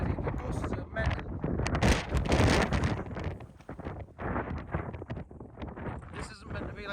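Strong, gusty wind buffets the microphone at a windy camp on the Scottish border, roaring in loud, uneven surges that swell and ease across the whole stretch, with voices talking underneath.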